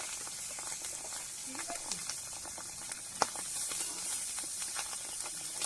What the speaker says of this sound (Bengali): তো তেলের মধ্যে আমি এবারে এক এক করে মাছগুলো ভেজে নেব